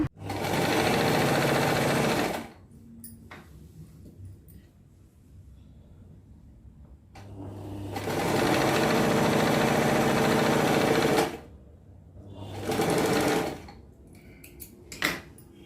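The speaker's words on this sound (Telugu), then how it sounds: "మొత్తము ఇలా ఈ రెండు జాయింట్ చేసుకుంటూ మొత్తం కుట్టేసేయండి అలాగే ఇంకొక హ్యాండ్ కూడా కుట్టేసేయాలండి" A sewing machine stitches dress sleeves in three loud bursts of fast mechanical whirring, separated by quieter pauses.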